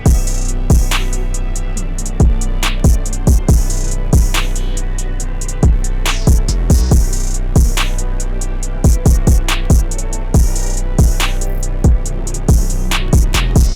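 A hip-hop beat plays with punchy kicks, crisp hi-hats and snappy percussion in a steady, looping rhythm, loud and up close with no talking.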